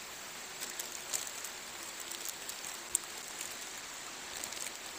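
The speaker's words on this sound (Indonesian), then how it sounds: "Cuacanya di sini lagi mendung dan gerimis" Light drizzle at a cave shrine in a village near a temple, with overcast weather: a soft, steady patter of faint drops and scattered small ticks continuing throughout, distant and quiet, with no voices.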